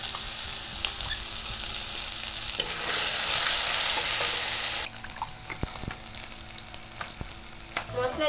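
Ground spice paste hits hot mustard oil for potato curry filling, a loud steady sizzle and crackle that jumps in intensity midway, then settles into softer frying with scattered clinks of a spoon stirring the pan.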